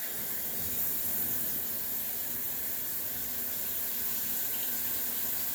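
Water pouring steadily from a kitchen tap while tablespoons are measured out for brownie bars, a constant close hiss with no break and no talking.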